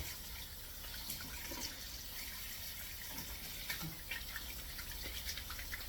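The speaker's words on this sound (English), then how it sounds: "Let's wash our hands, yeah, all the time." Tap water runs steadily into a sink while hands are washed, a faint, constant splashing hiss with no talking.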